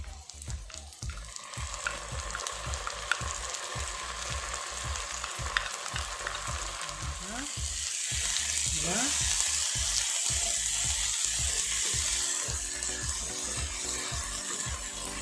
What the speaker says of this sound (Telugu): ఈ మసాలా అనేది కొంచెం పచ్చివాసన పోయేంత వరకు వేయించుకోవాలి